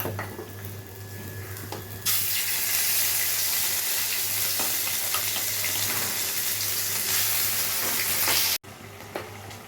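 Onion paste dropped into a pan of hot oil with fried spices and dried chilli bursts into a loud, steady, close sizzle that roars for several seconds, then cuts off abruptly.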